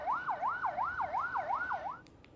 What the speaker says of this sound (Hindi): एम्बुलेंस मौके पर है